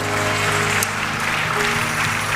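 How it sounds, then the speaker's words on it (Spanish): Congregation applauding the Lord at the close of a Spanish-language church service, a steady, dense wash of clapping that runs throughout, with faint musical tones beneath. "Dele aplauso al Señor."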